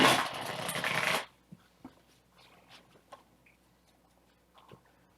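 Loud riffling of a deck of game cards being shuffled during a card game unboxing and live play, a dense burst lasting about a second, followed by quiet scattered taps and handling sounds.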